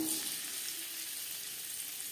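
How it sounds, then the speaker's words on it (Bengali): Paneer sizzles lightly in a kadai of refined oil, a steady soft frying crackle with faint hiss throughout, no voices. "সবার প্রথমে আমি পনির হালকা করে ভেজে নেব"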